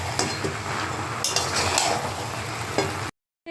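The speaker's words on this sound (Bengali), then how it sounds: "এবারে একটু ভালো করে কষিয়ে নেব।" Chicken and spices are stir-fried in a pan, a steady close sizzle and frying hiss with a spoon scraping and stirring against the metal, the clatter rising at intervals, then cut off abruptly near the end.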